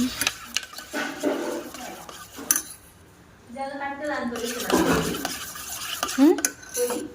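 Corn flour and water mixture stirred by hand with a utensil for a home hair keratin treatment, scraping and clinking against the vessel in uneven strokes, with voices talking in the background.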